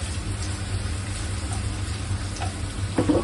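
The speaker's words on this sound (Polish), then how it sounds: "Na rozgrzaną patelnię z olejem dodajemy cebulę i podsmażamy ją na małym ogniu na złoty kolor" Onion frying in oil in a hot pan over low heat, a steady soft sizzle running unbroken throughout, close and fairly quiet.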